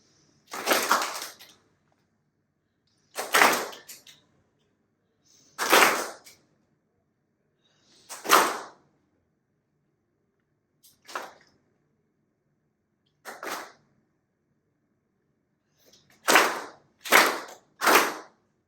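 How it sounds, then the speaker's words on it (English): A live audience claps together in unison on a conductor's hand signal, giving nine separate bursts of group applause spaced a couple of seconds apart, the last three coming in quick succession, with silence between them and no talking. "when my hand comes down, I would like you to clap"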